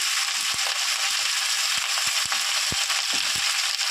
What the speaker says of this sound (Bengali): সবজিটা দিয়ে একটু সামান্য একটু নেড়ে তেড়ে নিয়ে